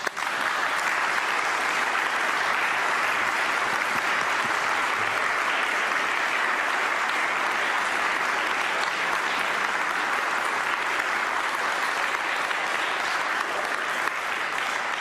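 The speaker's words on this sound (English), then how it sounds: "why don't you give them this kind of applause they never got 10 months ago" A church congregation gives long, steady applause, a broad, even roar of many hands clapping that holds at a moderate level for the full stretch.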